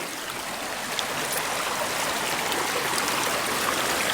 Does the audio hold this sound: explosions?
no